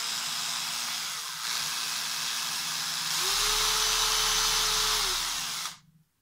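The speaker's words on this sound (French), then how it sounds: "il suffit de passer à la visseuse, vous mettez en vitesse" A cordless drill-driver set to drilling speed twists a bus bar with a steady whir up close, rising to a higher, louder pitch for a couple of seconds before cutting off.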